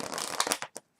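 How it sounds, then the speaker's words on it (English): A deck of playing cards given one quick shuffle during a card trick, a close, short crisp riffle ending abruptly within about a second. "we'll give it one more quick shuffle here"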